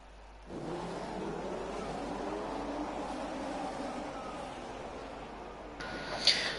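Race cars in the F1 2017 video game pull away on a formation lap, a steady broad engine roar held at even loudness throughout, with a brief brighter burst near the end.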